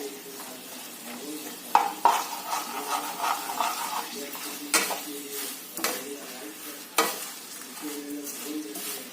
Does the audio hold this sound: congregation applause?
no